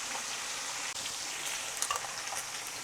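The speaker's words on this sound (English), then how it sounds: "so now it is time to add the sausage in here. So I'm just gonna go ahead and let these cook on each side" Sausages frying in a pan for Haitian spaghetti, giving a steady close hiss and sizzle with scattered crackles and no talking.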